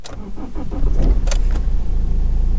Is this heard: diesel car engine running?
yes